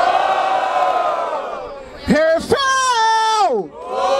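Battle rap crowd at an outdoor trap rap battle in Barueri, São Paulo, cheering and shouting together, a loud sustained roar with rising whoops and a brief dip before swelling again.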